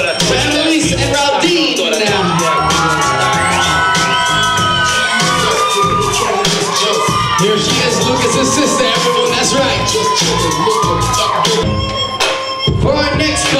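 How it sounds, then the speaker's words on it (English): Wedding guests at Chateau Brian cheer, whoop and shout for a couple entering over loud, pulsing music, with a lively crowd roar and voices layered throughout. "Keep those hands going, everyone, for our next couple. Make some noise."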